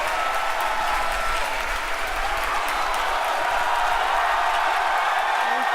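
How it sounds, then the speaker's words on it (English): A large crowd cheering and applauding steadily at a SpaceX Falcon Heavy launch as its boosters land, a dense continuous roar of clapping and shouts with no pauses. "You can hear our crowd going crazy right now."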